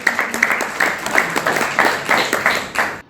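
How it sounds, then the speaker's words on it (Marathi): Audience applause at a Rotary Club of Solapur Harmony installation ceremony, a steady crowd of clapping hands at moderate distance, sustained evenly across the whole stretch with no voices over it. "त्यासाठी जोरदार टाळ्या होऊ द्या"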